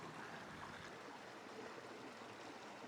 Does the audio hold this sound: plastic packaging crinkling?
no